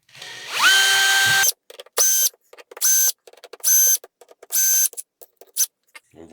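A screw-together soap mold is taken apart, with a long whirring burst followed by about five short, sharp mechanical whirs in quick succession, loud and close.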